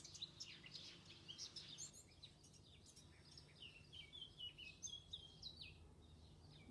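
A blackbird sings outdoors in bright, warbling phrases, heard clearly but at a moderate distance over a low background rumble, with no voices.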